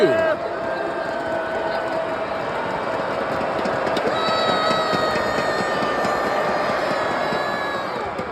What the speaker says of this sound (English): the officiating drawing the ire of this capacity crowd here in Detroit